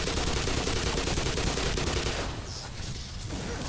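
Gunfire in Black Mesa, a dense and continuous rattle of rapid shots that eases off a little toward the end.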